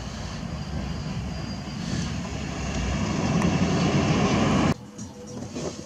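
British Airways airliner passing overhead, a loud broad engine roar that swells steadily and then cuts off abruptly near the end, leaving faint background noise.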